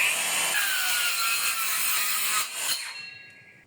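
A MOLLAR cordless circular saw runs through wood with a bright, high whine that holds steady for a few seconds, then dips, surges briefly and winds down as the cut ends.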